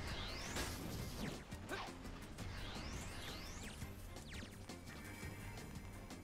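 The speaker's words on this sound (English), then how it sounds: "Explosions are cool." Explosions and crashing impacts in the video game Sonic the Hedgehog (2006), loud and continuous, with sweeping whooshes and layered game effects filling the scene.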